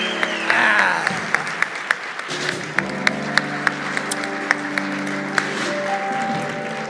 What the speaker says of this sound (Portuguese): Bastante palmas para ele, gente.